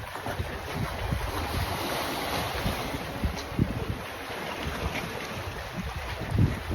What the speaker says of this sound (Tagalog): Maalon pa, no?